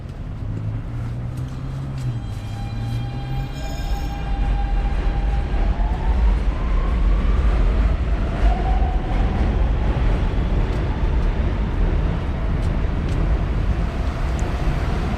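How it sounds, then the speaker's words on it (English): A New York City subway train rumbles past loudly and continuously in Astoria, Queens, with metallic squeals and whining tones sliding over the steady roar. "the subway noise can be deafening at first at times"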